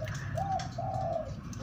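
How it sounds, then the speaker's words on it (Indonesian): A zebra dove (perkutut) cooing in a small aviary, a few soft, clear coo notes in quick succession, fairly faint against low background noise. "aviari untuk burung perkutut yang selalu saya pakai buat koloni"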